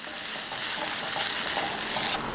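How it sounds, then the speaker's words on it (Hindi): Onions with ginger and garlic fry in a kadai for kadai paneer, a loud, continuous sizzle with soft stirring scrapes that swells slightly toward the end, heard alone without speech. "अभी प्याज को भूनते हुए ऑलमोस्ट 5 मिनट हो गए हैं"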